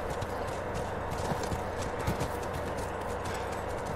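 Horses clip-clop in The Last of Us video game, a dense, steady run of hoofbeats over constant loud background noise with no speech.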